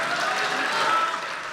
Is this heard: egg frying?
no